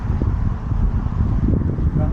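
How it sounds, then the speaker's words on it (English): Wind buffets the microphone on a city street in Cody, Wyoming, a continuous low rumbling gust noise heard close and fairly loud over a short stretch, with a person speaking underneath. "Sorry about this wind."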